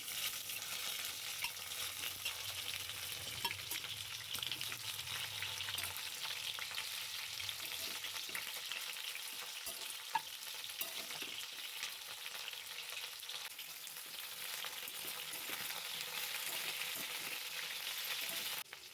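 Jujube berries fry in hot mustard oil with five-spice and dried chillies, a steady close hiss and crackle of sizzling with occasional stirring taps, no voices.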